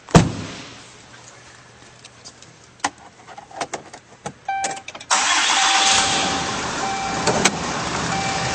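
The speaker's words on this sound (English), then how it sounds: "And now we'll go start her up." A 2011 Dodge Ram 2500 truck is started: a few faint clicks and knocks, then the engine cranks and catches, settling into a loud, steady idle that continues to the end.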